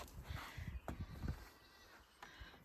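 Sheep and goats bleat a few times on a farm, short calls close by with scattered low movement noise, quiet overall and no talking.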